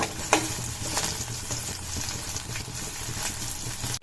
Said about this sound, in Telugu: ఆనియన్స్ గోల్డెన్ బ్రౌన్ వచ్చేంత వరకు ఇలా కలుపుకోవాలి